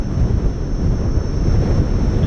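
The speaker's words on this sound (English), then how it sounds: "Oh, it's really windy." Wind buffets the microphone during a ride on a Gotway Monster electric unicycle, making a steady, loud, low rumbling roar with no break.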